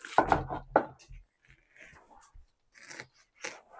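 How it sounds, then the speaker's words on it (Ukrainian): A large knife cuts a watermelon in half, giving a few sharp cracking and crunching snaps near the start, then quieter intermittent rind crackles. "Розділяємо по центру. На Навпіл. О, тріщить."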